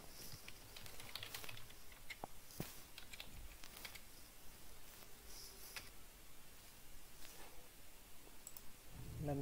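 Fingers tap out a username and password on a computer keyboard, a steady run of quiet, close key clicks with a few sharper strokes and no talking.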